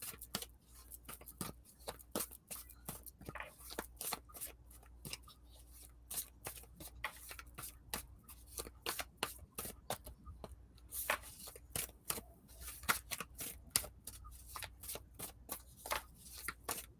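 Cards from a Moonology oracle deck are shuffled steadily for the whole stretch, a close, dense run of quick papery flicks and riffles with a brief soft patter between bursts, and no talking.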